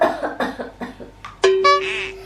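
Several people in a children's pretend doctor skit cough in a rapid string of short, close bursts, one after another, with a brief voiced squeal near the end.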